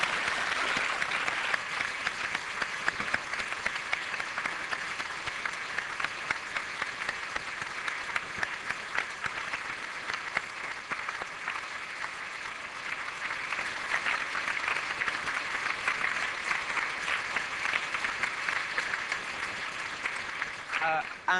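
Sustained, even applause from an audience closing a 2008 Cambridge debate with Habermas, a dense wash of clapping that holds steady throughout without letting up.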